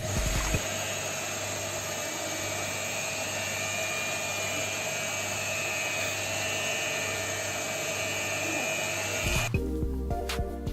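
H&L QL 1200 jet cleaner pressure washer running, a steady loud motor whine with a high-pitched tone throughout, cutting off abruptly near the end.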